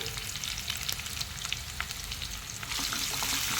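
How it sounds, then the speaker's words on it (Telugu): Sliced onion and green chillies frying in a hot pan for a brinjal and fresh coconut fry, a dense continuous sizzle that swells louder near the end, close up with no voices. "ఇవన్నీ కొంచెం బ్రౌన్ కలర్లోకి వచ్చేలాగా వేయించుకోవాలి"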